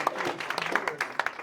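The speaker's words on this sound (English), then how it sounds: "Give her a round of applause." A short burst of audience applause in a training session, scattered hand claps rising and falling briefly, moderately loud and close.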